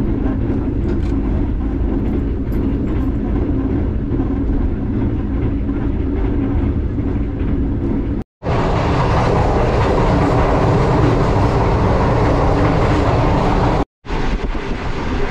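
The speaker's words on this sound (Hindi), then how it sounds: "तो ट्रेन जो है इस वक्त अप्रोच कर रही है ओकाड़ा रेलवे स्टेशन पर" Green Line Express passenger train running at speed toward Okara railway station, a loud, continuous roar and rumble of wheels on track, broken by two brief dropouts, with no talking.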